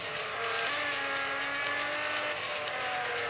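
Race cars overtaking in the mobile racing game Real Racing 3, a loud steady engine drone with pitch rising as the cars accelerate past one another, no voices.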